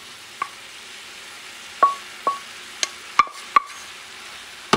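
Rice mixed with pork shoulder stirred in a pan, with scattered scraping clicks of a utensil against the pan over a soft steady sizzle, close and without speech.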